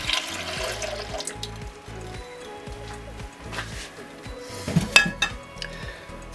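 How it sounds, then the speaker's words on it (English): About 210 ml of milk pours into a foaming yeast mixture for hot cross buns, a soft steady liquid stream with light clinks of bowl and utensils nearby. "Right, in goes the milk."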